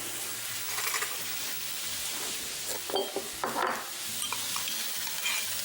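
Food sizzles steadily in olive oil and butter in a pan, a close crackling hiss with a few stirring scrapes and light knocks, no voices.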